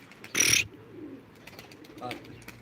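A pigeon at a live pigeon auction gives one loud, brief flurry of wing noise near the start, followed by faint low murmurs and softer rustles.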